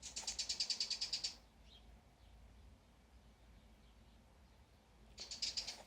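A bird gives a rapid, high-pitched chirping trill, then falls quiet for several seconds before the same bright burst of calls returns.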